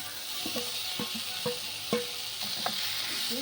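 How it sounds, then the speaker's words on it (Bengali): Fried eggplant and drumstick flowers sizzle together in a pan while a spatula stirs them in a steady rhythm of sharp scrapes, roughly every half second, over a low constant frying hiss. "একটু ভালো করে ভেজে নেবো যাতে এটা ভালোভাবে মিশে যায়।"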